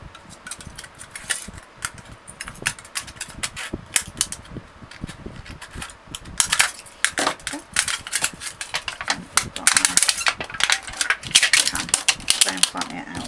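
Scissors snip through a thin aluminium drinks can along the metal seam, a rapid series of sharp metallic crunches and clicks close by that grows louder and denser toward the end.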